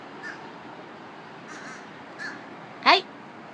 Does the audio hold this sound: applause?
no